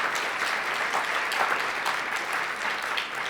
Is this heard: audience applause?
yes